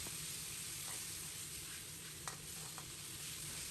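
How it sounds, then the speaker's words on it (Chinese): Marinated pig liver stir-fried in a hot wok over high heat with aromatics, giving a steady loud sizzle with scraping stir strokes and a few sharp ladle clicks against the metal. "放入腌好的猪肝，用勺子快速扒拉开，全程大火爆炒"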